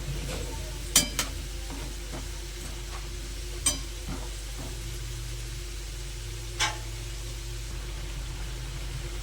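Flour chomchom sweets fry in a pan with a faint, steady sizzle and a low background hum, punctuated by a few sharp clicks of stirring.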